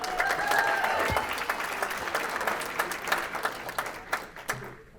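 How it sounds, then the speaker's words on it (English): Sustained applause from a live audience at a speaking event, with dense, steady clapping that stays loud throughout and thins slightly toward the end. "One more round of applause for the amazing job."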